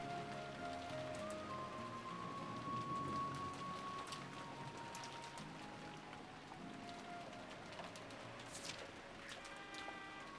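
Rain and storm from the visual novel Rose Guns Days, a soft, steady patter of rain with scattered drops and faint tonal music underneath, no voices.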